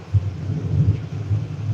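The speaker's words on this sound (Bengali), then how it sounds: "বাজ পড়ছে এতক্ষণ মেঘ ডাকছিল না শুধু বৃষ্টি হচ্ছিল" A low, muffled rumble of thunder rolls steadily in the distance, soft and continuous.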